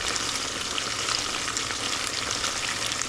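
Tofu fries in oil under a splatter guard, giving a dense, even crackling sizzle that holds steady and close throughout with no voices.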